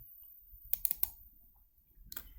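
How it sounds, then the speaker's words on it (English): A computer mouse double-clicked in a quiet room: a tight cluster of crisp, close clicks followed by a fainter scatter of clicks after a pause. "double click on parts."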